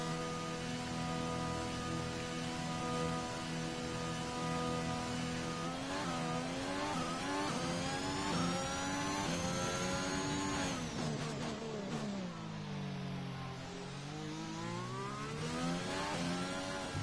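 A Formula 1 car engine in F1 2021 drives laps to warm up the tyres, its high-pitched whine rising and falling steadily through shifts and corners, sustained and close with no talk over it.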